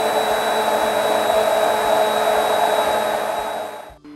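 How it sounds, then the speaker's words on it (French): A blender whirs steadily, mixing a hazelnut praline ice cream preparation, a constant loud motor drone that winds down and stops at the end. "Et ensuite, je mixe la préparation."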